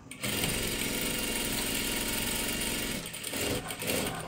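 A sewing machine running a double line of stitching on a salwar, a steady fast mechanical whir held for several seconds, briefly slowing near the end, close and loud with no talk.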